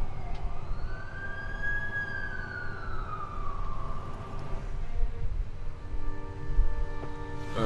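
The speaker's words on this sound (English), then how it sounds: "That's the ambulance I called." An ambulance siren in The Amazing Spider-Man 2 video game wails in a single slow rising and falling sweep, moderately loud over a rumbling city background, then fades as other tones take over.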